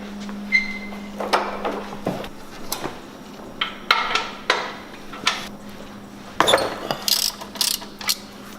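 Ratchet clicking in short bursts while loosening the oil drain plug on a Subaru STi during an oil change, a steady low hum underneath and the clicks repeating every second or so, close by.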